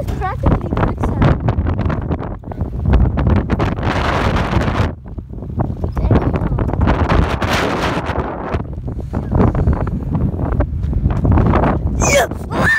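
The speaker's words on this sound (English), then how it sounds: "The wind is pushing me back." Strong wind blows outdoors while off-roading, buffeting the microphone with loud, low rumbling gusts that surge and ease almost continuously.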